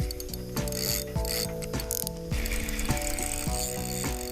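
Fishing reel drag clicking rapidly as a big fish pulls line, a loud, close ratcheting buzz with surging rhythm, heard alone.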